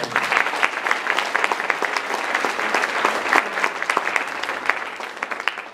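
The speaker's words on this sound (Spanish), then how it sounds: "Dele palmas al Señor" A church congregation claps for the Lord partway through a sermon, a dense, continuous burst of many hands with sharp individual claps standing out, loud and sustained throughout.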